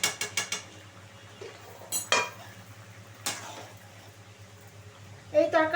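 A spoon clinks sharply against a pot while ghee goes into a cauliflower and carrot curry, a few bright metallic taps spaced apart with quieter scraping between them and faint voice in the background.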